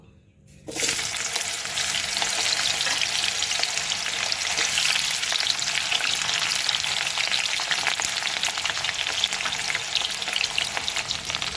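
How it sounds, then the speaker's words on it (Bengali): Loud, steady sizzling of bitter gourd frying in hot mustard oil, a dense hiss that starts after a brief quiet moment and continues evenly throughout. "প্রথমে আমি করলাটাকে ভেজে নেব"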